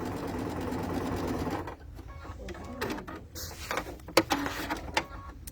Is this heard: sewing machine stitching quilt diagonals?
yes